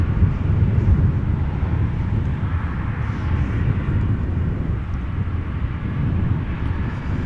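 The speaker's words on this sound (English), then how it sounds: "confirming that the A380 is actually going to come to this runway" An Airbus A380 airliner lands at Amsterdam Schiphol Airport, heard from near the runway threshold as a loud, steady, broadband jet roar that holds throughout with slight swells.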